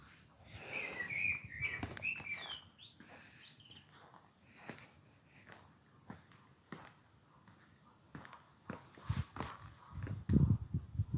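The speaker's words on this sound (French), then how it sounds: "Oh, le merle se met à chanter." A common blackbird sings in short, bright phrases, moderately close, around a derelict cooling tower, with scattered footsteps and rustling and other faint bird calls between the notes.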